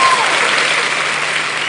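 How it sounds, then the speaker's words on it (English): Steady round of applause from a conference audience at a fintech event in Lagos, a dense, even wash of clapping held at full strength for the whole stretch with no speech over it. "Can we give ourselves a round of applause for that?"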